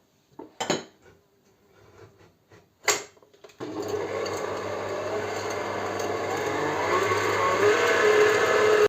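An electric mixer whips eggs with salt and vanilla sugar, starting after a few short knocks and clatters and then running as a loud, steady whir that continues to the end.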